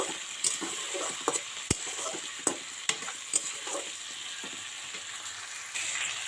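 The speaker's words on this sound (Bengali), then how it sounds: "তো এটাকে সুন্দর করে ভেজে নেব।" Sea fish fries in a home kitchen pan with a soft, continuous sizzle, and a utensil stirring through it makes scattered sharp clicks and scrapes.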